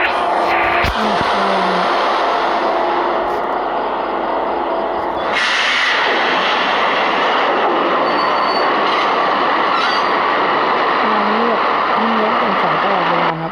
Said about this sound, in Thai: คือการ ให้ขับ รถไฟเนี่ย นะครับ